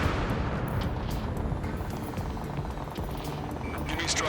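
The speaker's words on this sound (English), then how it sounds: "Gunfire and the roar of jets echoing through the streets." Gunfire and the roar of jet aircraft echo through city streets under martial law in the Ace Combat 7 video game, a dense, continuous rumble with crackling bursts running steadily throughout.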